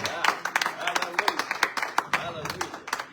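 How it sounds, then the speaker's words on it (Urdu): A church congregation claps loudly for Adam in a rapid, uneven patter of close handclaps that runs throughout, with voices mixed in. "آئیے ذرا پہلے آدم کے لیے زوردار تالیاں بجائے"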